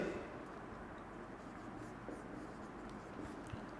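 Marker or chalk moving across a board while math is written out during a polynomials lecture, heard as a faint, steady scratchy hiss with small irregular strokes throughout, no talking.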